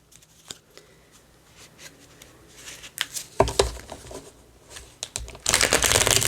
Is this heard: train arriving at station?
no